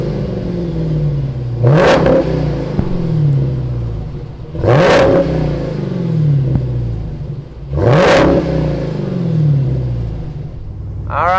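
A 2018 Dodge Demon engine rumbles at idle close by and is revved hard three times at even intervals, each blip rising sharply and dropping back to a throaty burble, with no talk.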